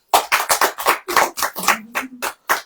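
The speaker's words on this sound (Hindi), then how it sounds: "ताली बजाइए।" A church congregation clapping hands loudly and close, about a dozen quick sharp claps in an uneven rhythm, with a short gap before a final clap.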